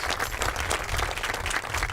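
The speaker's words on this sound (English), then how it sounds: "let's give everyone on the project just a big round of applause" Audience applause at a university student housing groundbreaking ceremony, dense, even clapping from a sizable crowd, sustained at a steady level throughout.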